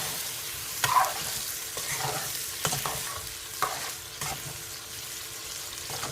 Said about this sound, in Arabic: تخلون الفاصوليا تتحمس ويا المعجون واللحم والثوم والبصل بالزيت